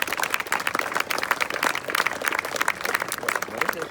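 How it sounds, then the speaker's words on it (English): Guests at a high school soccer banquet applaud for the players' parents, a dense burst of clapping from a room full of people that carries on steadily. "round of applause for your parents"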